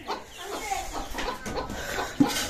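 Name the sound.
chickens clucking at morning feeding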